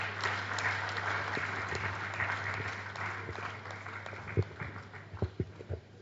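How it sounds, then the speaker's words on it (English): Audience applause at a panel-style book presentation, a steady wash of many hands clapping throughout, with a few louder individual claps near the end. "A round of applause for her again"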